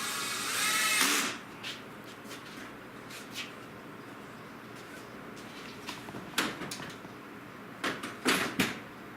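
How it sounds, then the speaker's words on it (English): Short bursts of a power drill whirring as it drills pilot holes, a sustained run at first followed by several brief spurts, near and fairly loud against a quiet room. "then you drill your pilot holes"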